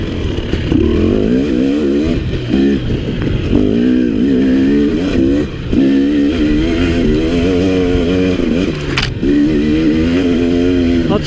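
A 2017 KTM 300 XC two-stroke dirt bike revs hard while riding, the engine note rising and falling in repeated bursts of acceleration, loud and close throughout.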